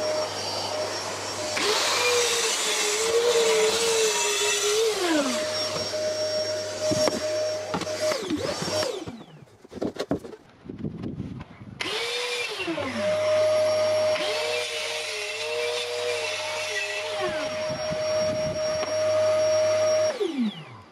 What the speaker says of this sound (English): I'm ripping the 18mm MDF down to size first